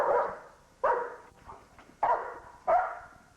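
A dog barks four times in loud, close bursts with short pauses between them, then a softer whine, and no one speaks.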